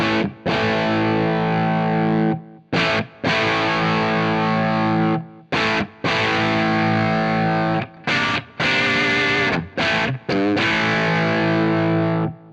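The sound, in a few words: distortion effect with treble and bass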